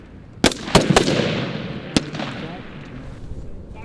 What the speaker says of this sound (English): our senior enlisted leaders conducted their second live fire